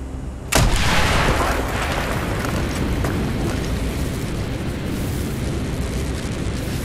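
A loud blast erupts in Call of Duty Black Ops as a charge blows a hole in a wall at the Baikonur Cosmodrome, a sharp burst settling into a long, dense rumble of debris and roar that holds steady to the end.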